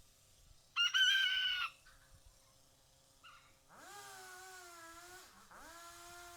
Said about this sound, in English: If the chicken can shut up.